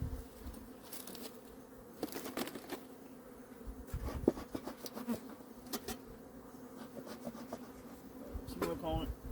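Honey bees buzz around an opened first-year hive during a mid-October inspection, a soft continuous hum with scattered close fly-bys, light handling noises and faint low talk in the background.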